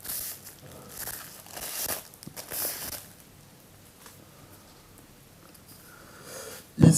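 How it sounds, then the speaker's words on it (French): A small plastic bag is pulled off inside a Hoto 3.6V cordless screwdriver box, soft crinkling rustles in short bursts up close, then a quiet stretch and a louder knock at the end. "On va enlever le petit sac plastique."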